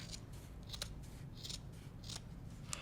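Scissors trim the fabric edge of a quilted strippy zipper pouch with four or five soft, evenly spaced snips over a low steady hum.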